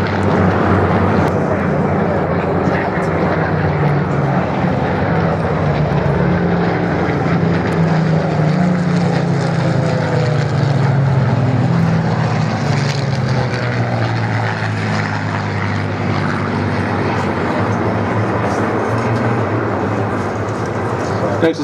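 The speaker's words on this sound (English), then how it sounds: "Notice we've got a couple of clip wing versions in there" Spitfire fighters, including clipped-wing versions, roar past at the Flying Legends airshow at Duxford, a loud sustained piston-engine drone rising and falling as they cross, with a commentator talking over it.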